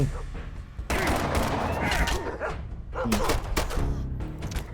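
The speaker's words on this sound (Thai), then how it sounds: "อันนี้ยิงโคตรแรงอะ่ะ ผมได้ปืนดอกมา 13 ดาเมจ" Rapid gunfire in the video game Fallout Shelter, bursts of repeated shots crackling loudly over a busy game soundtrack, with a short pause before the firing resumes.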